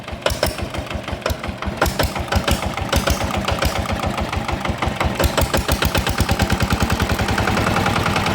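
Engine revved repeatedly while oil is checked in the radiator for an engine-oil-in-radiator fault, giving a loud, rapid, pulsing mechanical chatter that builds and stays dense throughout.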